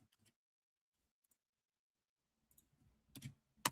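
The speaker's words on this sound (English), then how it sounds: "You're doing too much typing." Computer keyboard typing, a few scattered faint key clicks with long gaps between them, then a quick denser burst of keystrokes near the end, close by in a quiet room.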